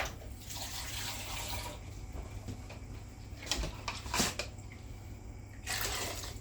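Water poured into a cooking pot of coconut water during outdoor-style cooking, a steady rushing pour over low background hum, broken by a few clinks before a second burst of pouring near the end.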